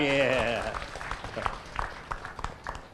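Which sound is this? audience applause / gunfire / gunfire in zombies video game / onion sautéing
audience applause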